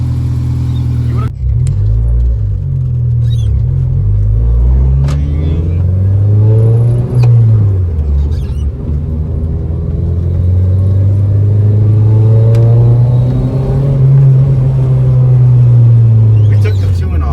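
An 8th-generation Honda Civic Si pulls away and accelerates on a drive, its engine note loud and close, rising and falling through revs with a rumbling low end, a voice talking over it at points.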